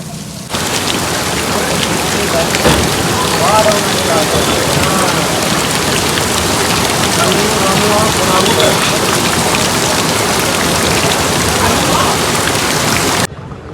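Steady rain falling throughout at night in Bada Bazaar, Gwalior, a dense continuous patter on surfaces, loud and close, with no voices over it.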